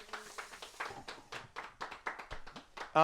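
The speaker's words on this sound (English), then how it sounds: "Give yourselves a round of applause." A small group at a live cooking demonstration claps, producing loose, sparse individual claps in an uneven rhythm, fairly close and moderate in volume, before a sudden louder noise at the end.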